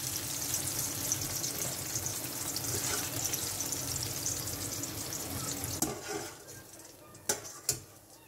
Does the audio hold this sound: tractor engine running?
no